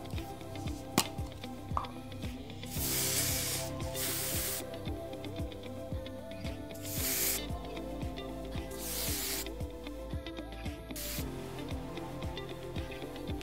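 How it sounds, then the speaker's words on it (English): Fekkai Sheer Control hairspray hisses in several short bursts over braided hair, close and fairly quiet, with small clicks and handling sounds between sprays. "what we're going to do is we're going to finish off with a light hairspray"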